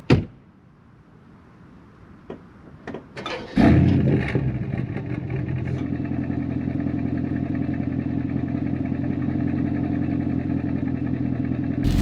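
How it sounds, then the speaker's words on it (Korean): An Aston Martin DBX is started: a few clicks and clunks, then the engine catches with a sharp loud flare and settles into a steady, deep, throbbing idle from the exhaust that holds for several seconds. "시동 걸어서 처음 배기음도 간단히 그냥"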